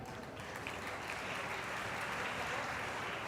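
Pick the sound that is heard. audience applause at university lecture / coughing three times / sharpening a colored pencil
audience applause at university lecture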